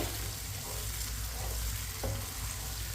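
Peas and carrots fry in a pan while a spoon stirs them, giving a constant close sizzle broken by short scraping strokes, with no voices.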